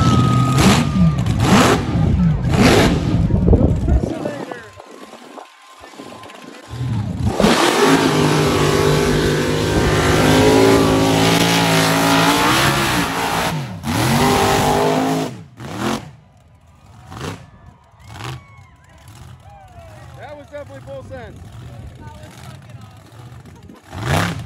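At a bounty hole competition at Iron Horse Mud Ranch, the 1,800-horsepower, 5,000-pound mud truck Miscombobulated roars and revs loudly through a mud pit in long surges, then drops to quieter bursts as people talk nearby.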